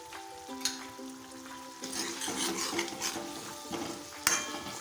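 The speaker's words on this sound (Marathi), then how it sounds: "छान प्रकारे परतवून घेणार आहोत." Spices (turmeric, chili powder and salt) are stirred and sautéed in oil in a pan for dhaba-style shev bhaji: close, continuous scraping and stirring with light clinks of the utensil against the pan, faint sizzling and a few sharper knocks.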